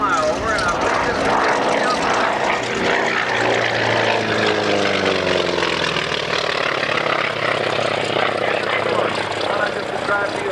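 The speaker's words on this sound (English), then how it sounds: "Again, the T-28, one more flyover" A T-28 propeller warbird makes another low flyover at an airshow, its loud radial-engine drone rising and then sweeping past with a falling pitch, while a voice talks over it.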